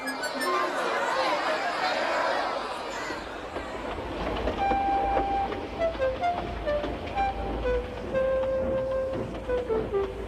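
Gordon, a steam engine, pulls away from a station platform with rising rail rumble and clacking, while sustained whistle tones ring out in the second half over background chatter.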